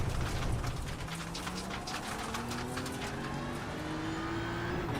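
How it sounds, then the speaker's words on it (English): A race car engine in the iRacing sim at the Nordschleife drones steadily through the whole stretch, with gear-related pitch sweeps rising under a rough, rain-like hiss of track noise. "the AMG sounds better for a German car, in my opinion, than the BMW"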